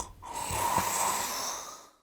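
A person snoring, one long rasping inhaled snore lasting about two seconds, close and moderately loud, with a rough buzzing texture and no talk.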